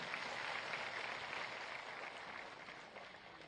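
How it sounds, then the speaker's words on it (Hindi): An audience at a state-level natural farming workshop claps for a named attendee, a dense, continuous patter of many hands that sounds somewhat distant and eases off slightly toward the end, with no talking. "तालियां एक बार जोरदार हो जाएं"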